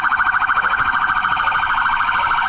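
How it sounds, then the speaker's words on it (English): A police car siren wails loud and close during a car chase, a rapid, steady, pulsing electronic yelp that continues throughout. "Turn the siren off!"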